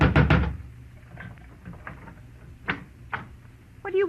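Loud knocking on the front door of a neighbouring house in a 1949 radio detective drama, a quick cluster of hard raps at the start followed by a few softer, spaced knocks.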